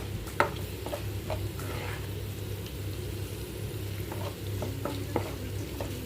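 Green chilies fry quietly in a pan with a low, steady sizzle, broken by a few soft clicks of stirring and a faint background hum.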